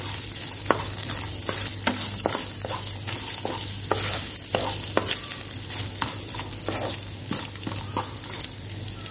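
Coconut pieces sizzle steadily in hot ghee in a pan for jackfruit prathaman, with a continuous frying hiss broken by repeated sharp scrapes and clinks of a stirring spoon.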